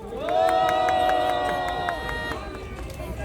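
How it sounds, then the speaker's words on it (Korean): Crowd applause at an elders' political rally outside Tapgol Park in Seoul: steady, fairly loud clapping with a sustained tone riding over it for about two seconds, then thinning out. "힘찬 박수 부탁드리겠습니다."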